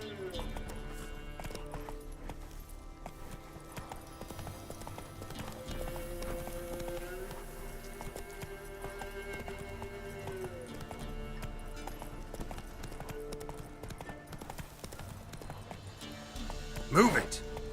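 Roach, the horse in The Witcher 3, clip-clops along at a steady galloping rhythm under continuous game music and ambience, with a sharper louder burst near the end.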